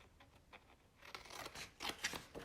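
Thick old scrapbooking paper being cut with scissors for an art journal, a few quiet snips at first, then louder rasping crunchy cuts in close succession, near and alone.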